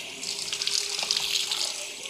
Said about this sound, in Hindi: फिर उसके बाद में आप कोहनियों समेत पानी लेंगे